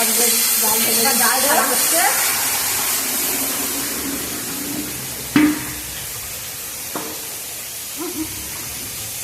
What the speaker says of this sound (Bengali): আর এই যে কপি ভাজা হচ্ছে, কপি ভাজছে।